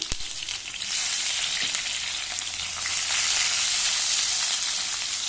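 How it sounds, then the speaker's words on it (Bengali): Capsicum frying in a little oil in a pan on high heat while making hilsa fish curry with coconut milk; a steady, loud sizzle that swells slightly partway through, with occasional faint stirring scrapes and no talking. "আই হিটে ভাজবো 1 থেকে 2 মিনিট।"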